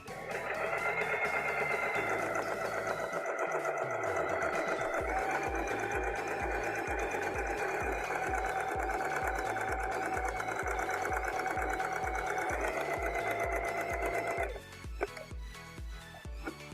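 A domestic sewing machine stitches a dress seam in one continuous run, its motor whirring steadily with a rapid rhythmic needle chatter, close and clear, before slowing to a stop near the end.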